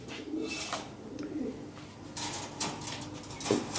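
Soft, low pigeon coos repeat a few times at a gentle distance over quiet background noise.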